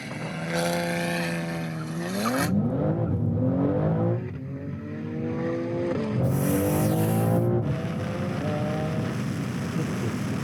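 A BMW M3 and a Ferrari race flat out, with loud engines revving upward in long rising sweeps and a sharp gear change between pulls, under steady wind rush and without voices.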